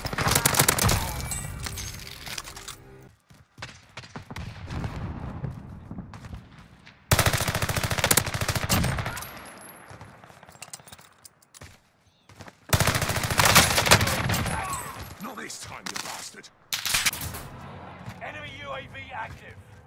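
Milano submachine gun fire in Warzone on Rebirth Island crackles in long rapid bursts separated by quieter gaps, with players talking over the gunfire.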